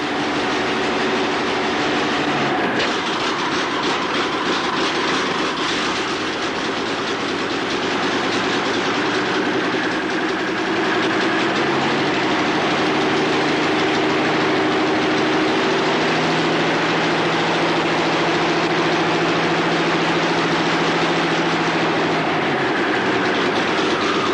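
A Revolver Cam engine, formerly called the Dynacam, runs continuously with a loud, steady droning hum and a faint rhythmic clatter, holding a constant pitch with only slight shifts over time and no speech.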